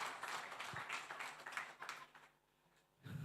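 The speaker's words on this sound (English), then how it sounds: "The team on top of the table, another round of applause." Applause from an audience at a soccer tournament draw event, a run of scattered claps that fades out near the end and then briefly picks up again.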